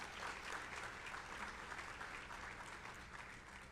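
A banquet audience applauds at a police and citizens awards event, dense sustained clapping from a large room that stays steady throughout and tapers slightly at the end.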